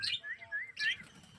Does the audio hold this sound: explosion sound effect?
no